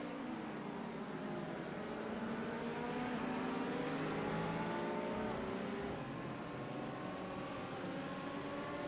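Race cars roar around The Bend circuit in a World Challenge racing video game, engines rising steadily in pitch as they accelerate, with a loud, continuous blend of several cars and no talking.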